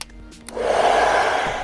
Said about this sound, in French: je vais prendre mon sèche-cheveux, mon diffuseur, je vais sécher ça